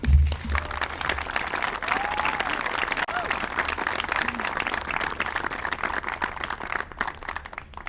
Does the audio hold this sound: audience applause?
yes